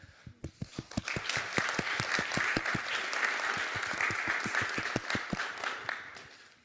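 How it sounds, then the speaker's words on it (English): At a network security conference session, the audience gives applause that starts with a few scattered claps, swells into dense, steady clapping, and then thins out near the end. "Just want to give a huge round of applause to the speakers again"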